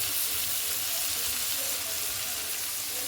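Beef fry sautés in a pan, hissing and sizzling steadily with a bright, dense crackle, close and continuous throughout without speech.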